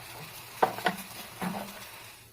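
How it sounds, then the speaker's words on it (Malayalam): Mustard seeds pop and crackle in hot oil in a pan, a few sharp bursts over a soft sizzle, close and fairly quiet, with no voices. "കൊഞ്ച് പീരയ്ക്കുള്ള കടുക് താളിക്കാം."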